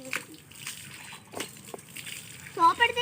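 Cold water splashing and sloshing during a bath in hot weather, short uneven splashes with a trickle, under light talk and a voice near the end.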